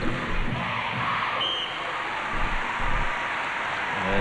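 A sellout crowd at ASB Stadium in Auckland during a 1994 netball test between the Diamonds and Silver Ferns, making a steady, distant roar of cheering with a few deep thumps rising through it.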